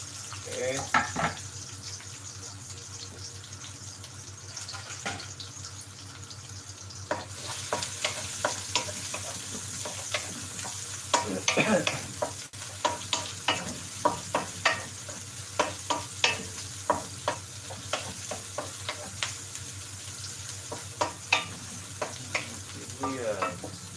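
Onions sizzle in a frying pan for Bisaya-style balbacua, with a steady low hiss and a spatula scraping in many repeated strokes that grow busier partway through, close by.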